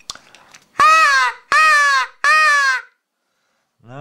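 A Johnny Stewart Hammerin crow call is blown in three loud, raspy caws in quick succession after a few faint clicks, followed by silence and the start of a voice.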